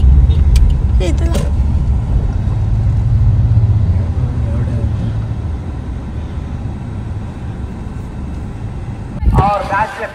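A car rolls slowly to park near a village cricket tournament, its engine a low rumble under someone speaking nearby, with a sharp clatter near the end.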